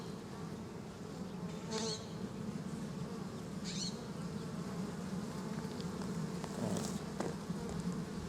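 Honeybees drone in a steady, close hum from an open hive while frames are inspected, with a few louder passes of individual bees buzzing by, no voices present.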